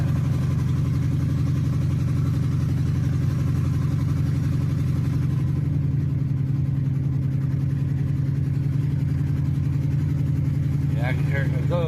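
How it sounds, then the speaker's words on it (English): A car engine misfiring, with one spark plug not firing, runs as a loud, close, steady rumble that carries on throughout without clear breaks. "Misfiring is what it's doing. It ain't firing continuously."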